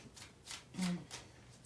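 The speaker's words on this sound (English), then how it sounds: "I'd like to give this a pretty good shuffle, too, so there we go." Tarot cards shuffled by hand close up, a few quick papery riffles and soft slides in rapid succession.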